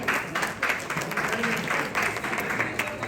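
Audience applause at a Tamil music concert as a singer is welcomed onto the stage; steady, dense clapping of moderate loudness throughout.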